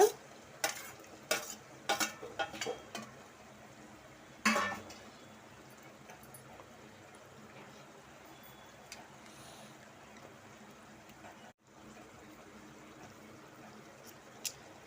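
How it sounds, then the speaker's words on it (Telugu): Potato pieces fry in hot oil for a brinjal curry with a soft, steady sizzle. A few sharp stirring knocks come near the start, then quieter crackling runs on, with a brief dropout past the middle. "మనకి ఇప్పుడు పొటాటో వేసుకుందాము బంగాళదుంప"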